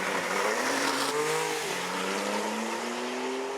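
Porsche 911 GT2 RS lapping a handling circuit, a steady loud engine drone with pitch sliding down and then climbing again as it shifts and accelerates, tyres hissing beneath.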